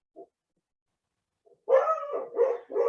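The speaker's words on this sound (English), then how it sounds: "Oh, my dogs are barking." A few dogs bark indoors, a faint yip followed by a burst of loud, repeated barks in quick succession close by.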